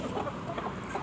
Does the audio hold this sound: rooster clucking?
yes